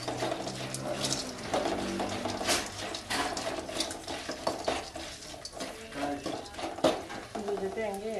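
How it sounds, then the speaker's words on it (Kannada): Poppy seeds and grated coconut frying in a little oil for sambar, stirred in a pan with scraping and clinking strokes over a light sizzle, in uneven bursts with gaps between. "ಗಸಗಸೆ ಹಂಗೆ ಎಣ್ಣೆಲಿ ಸ್ವಲ್ಪ ಇದಾದರೆ ಕಾಯಿ ಜೊತೆ ಹಂಗೆ ಅದನ್ನು ಫ್ರೈ ಮಾಡಬೇಕು"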